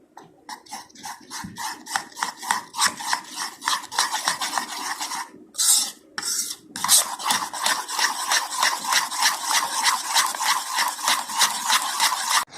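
Biscuit cream being stirred with milk in a bowl, a steady run of rhythmic scraping strokes, close and fairly loud, with a short pause near the middle before the stirring resumes.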